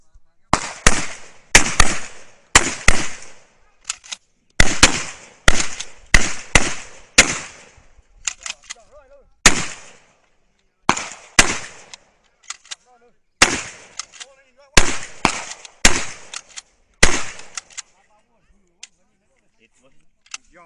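Live gunfire at an outdoor shooting test, sharp loud single shots and quick doubles fired in an irregular rhythm with short pauses between groups, each crack ringing out over a quiet background.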